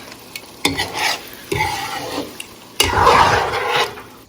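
A spoon stirs aloo dum, a potato curry with a little heavy whipping cream, in a pan; several scraping strokes come over a soft sizzle, close, with no talk.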